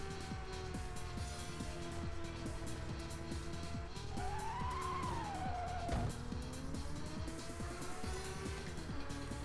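Tires screech as a race car drifts through a corner in the Rage Racer video game, a long rising and falling squeal over a continuous loud engine drone with no talk.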